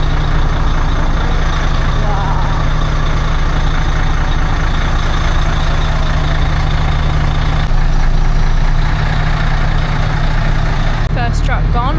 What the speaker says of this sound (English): First truck gone off the boat.